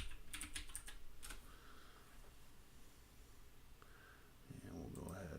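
A short run of computer keyboard typing, a password being entered during a Linux Lite update, light clicks early on, then quiet background hum; someone speaks over it.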